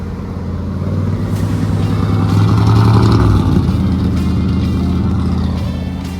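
Close V8 engine of a 1983 Chevy Holiday, revived after sitting about ten years, running with a deep harmonic rumble that swells briefly as if revved, then settles back to a steady idle; no voices.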